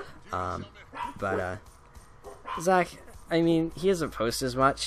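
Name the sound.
dogs barking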